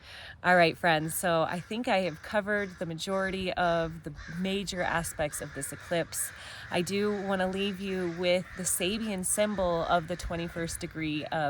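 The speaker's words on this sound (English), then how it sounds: "if you can hear the crows in the background" Crows caw repeatedly in the background outdoors, sharp harsh calls scattered throughout while someone talks steadily in the foreground over them.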